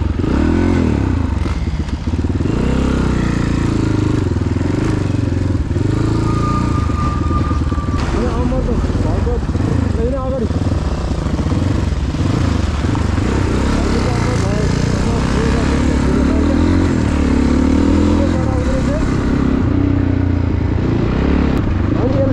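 A motorcycle is ridden on the road, its engine droning loudly and continuously with rattles and wind buffeting, while riders talk over the noise.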